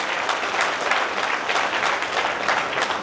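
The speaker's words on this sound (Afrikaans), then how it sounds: "Kerk, kom ons gee aan 'n klap." A church congregation applauding, dense steady clapping from many people filling the room, loud and sustained for the whole stretch.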